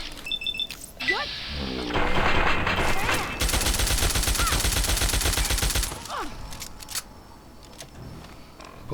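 Gunfire in Fallout 3 Tale of Two Wastelands: a sustained burst of rapid automatic fire lasting a few seconds, loud and close, bracketed by single shots and clattering impacts, with a voice speaking around it.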